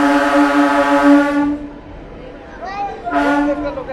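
A newly inaugurated Purulia–Howrah passenger train via Bankura and Masagram sounds its horn at Beliatore crossing station, giving a loud sustained blast followed by a pause and a second shorter blast, over the noise of a waiting crowd.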